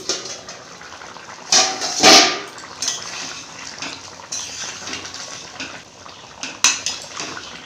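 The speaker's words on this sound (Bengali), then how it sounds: "এবারে ঢাকা দিয়ে দিব।" A metal lid clanks onto a cooking pot of potato and onion curry, a few sharp clatters and clinks standing out over a quiet kitchen background.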